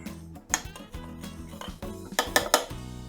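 A spoon clinks and scrapes against a bowl while yogurt and sriracha hot sauce are stirred together, a run of light irregular taps building into sharper clinks near the end, no talking.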